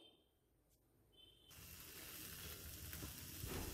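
Shallots fried in ghee tipped into a pan of green egg korma with peas, setting off a loud, steady sizzle that swells and holds as they are stirred in, with no talk.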